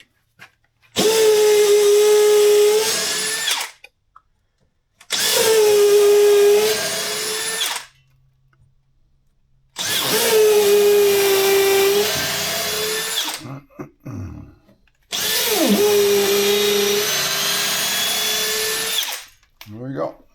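A power drill bores holes while working on rails, whining loudly in four long bursts of a few seconds each, with the pitch sagging under load and short quiet gaps between them.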